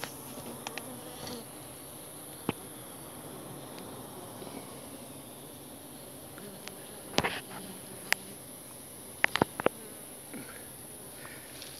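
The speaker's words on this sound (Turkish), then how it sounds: "İçeride arılar biraz polen taşıyor ve içeride bayağı bir havalandırma sesi var" Honeybees in a weak hive fan steadily inside the box on a hot day, a low continuous hum with a few sharp clicks and knocks scattered over it, fairly quiet and close.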